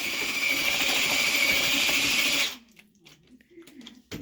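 A mechanical mixer churns render for coating walls, a loud steady whir for about two and a half seconds before it cuts off abruptly, leaving quiet scraping and faint knocks.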